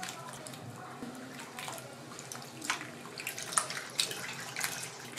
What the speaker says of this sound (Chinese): 切好的土豆片放入清水中，洗去淀粉，防止氧化变黑